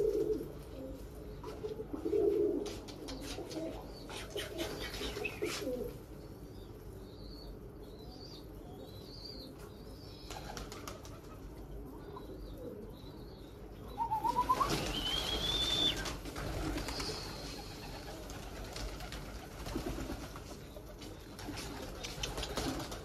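Female Limonu Akbaş pigeon cooing in a series of soft, low calls at moderate distance, with a brief burst of wing flapping partway through and faint chirps from other birds in the background.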